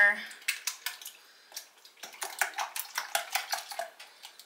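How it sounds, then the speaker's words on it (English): Metal utensil stirring food in a pot on the stove, eggs being cooked with salt, pepper and butter: a run of quick clinking and scraping strokes, close and fairly loud, with a pause after the first few. "Give it another good stir."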